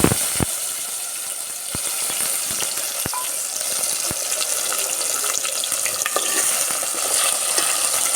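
Garlic cloves and tomatoes hit hot oil in a frying pan while cooking a desi moong dal curry: steady loud sizzling and crackling throughout, with scattered clicks of a spoon stirring, no talk.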